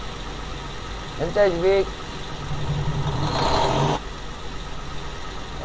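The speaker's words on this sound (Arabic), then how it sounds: "والله صوت المحرك مال سيارتك حلو." In the video game Euro Truck Simulator, a vehicle engine idles with a steady low drone throughout, and someone speaks briefly over it.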